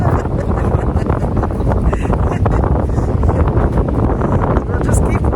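Strong wind buffets the microphone outdoors in Wyoming, a steady loud rumbling roar throughout, with voices faintly beneath it.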